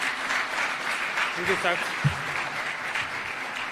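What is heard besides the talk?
audience applause welcoming the President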